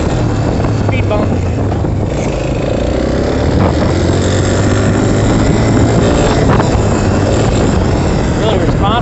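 Suzuki LTZ 250 quad ATV engine with a Mikuni carburetor running in first gear, a steady loud buzz under heavy wind noise from the rider's microphone, with the rider talking briefly.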